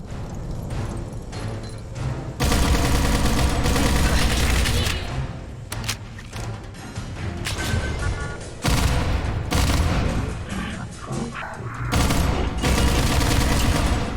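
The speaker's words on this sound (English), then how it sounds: "I'm just getting destroyed by gunfire" Rapid bursts of Fallout 4 gunfire rattle loudly and repeatedly, broken by short pauses, with automatic weapon fire dominating throughout.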